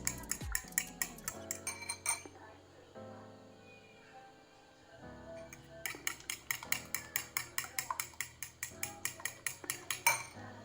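A whisk clinks rapidly against the side of a bowl of eggs in quick, rhythmic strokes, pausing in the middle before resuming. The sound is close and faint.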